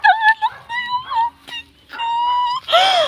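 Newborn goat kids cry with several close, loud, wavering bleats in quick succession, the last one longer and harsher.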